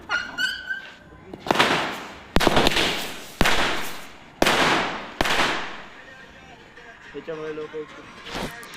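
Loud firecracker bursts at Diwali, a handful of sharp blasts spaced about a second apart with noisy crackling tails, then fading, with voices talking and a faint tonal sound nearby.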